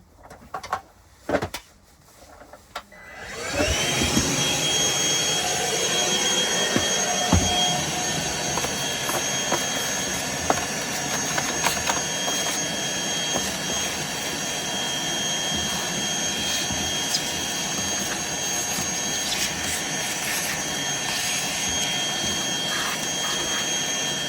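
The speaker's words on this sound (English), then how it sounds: "Let's vacuum this out." A Hoover Elite Rewind upright vacuum cleaner switches on after a few clicks and handling noises, then runs with a steady, loud whining roar that holds constant to the end.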